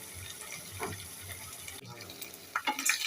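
Turmeric, chili and coriander powders sautéing in a pan for a taro and hilsa-head curry, a soft close sizzle with light stirring scrapes, then a brief splash of running water near the end.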